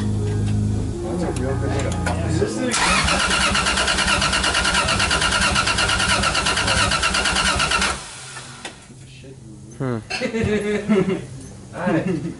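A Lexus IS300 with a 1JZ-GTE engine cranks and catches, roaring loudly for several seconds before cutting off; voices and laughter follow in the quiet.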